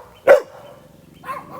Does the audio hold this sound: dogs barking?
yes